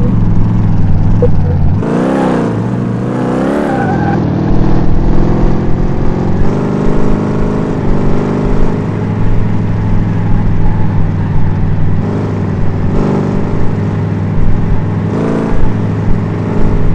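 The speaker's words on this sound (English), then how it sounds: "so this engine sounds like," A loud car engine in Car Mechanic Simulator 2018 revs up and down, its pitch rising and falling in surges, then settles into a sustained droning hum.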